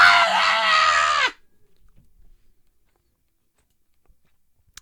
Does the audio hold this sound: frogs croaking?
no